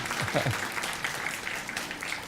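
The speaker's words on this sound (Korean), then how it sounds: "우리 박수를 한번 따뜻하게 환영해 주시기 바라겠습니다." A church congregation at Sunday worship gives warm applause in welcome, soft and steady clapping that follows a brief spoken voice at the start.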